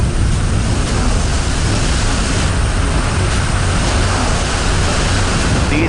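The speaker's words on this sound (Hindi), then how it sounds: "तेज हवा की इस आवाज को सुनिए।" Strong wind and sea waves on the Digha coast, a dense, steady roar of gusts and surf that stays loud and unbroken throughout, with no voices.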